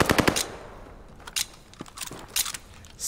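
Rapid rifle fire in Call of Duty: Vanguard, an opening burst of quick shots followed by scattered, fainter bursts and single shots in the distance.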